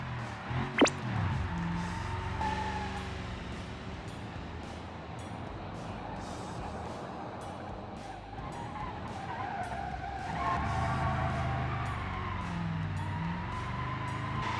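A 4.5L V8 truck drifts sideways in BeamNG.drive, its tires skidding and squealing in long continuous screeches over the roaring engine, loud and close for the whole stretch, with no talking.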